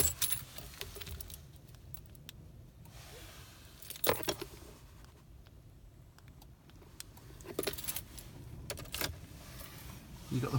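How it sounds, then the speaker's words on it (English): Two sets of keys with a fob jangle in bursts of metallic clinking for a 2003 Fiat Ducato camper conversion, close and fairly quiet. Faint background noise fills the gaps between the shakes. "Two keys, two sets of keys."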